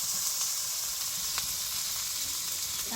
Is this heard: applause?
no